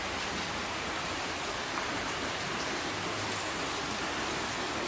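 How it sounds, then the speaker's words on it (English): Rain falls steadily outside a home, a dense, even hiss of moderate rainfall that holds constant throughout with no voices. "And it's not really raining too bad right now,"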